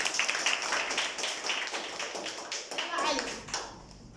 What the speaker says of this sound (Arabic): صفقوا لها